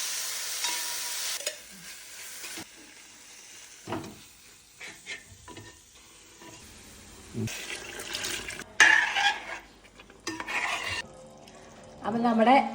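Beef frying for biryani produces bursts of sizzling and crackling between quieter pauses, mixed with stirring clatter, a few scrapes and some running water.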